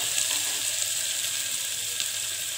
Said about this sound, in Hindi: ये देखिए एक चम्मच मैंने यहाँ पर अदरक और लहसुन का पेस्ट लिया है, लगभग 200 ग्राम छोलों में। इसको हम अच्छे से सौते कर लेते हैं।